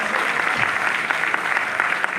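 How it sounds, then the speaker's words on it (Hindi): An audience at a political party meeting breaks into steady, dense applause to welcome a guest, a close and continuous clapping. "ताली बजा करके उनका स्वागत करें।"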